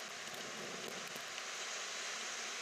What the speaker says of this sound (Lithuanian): Dabar tenka žiūrėti jūrą per lietų.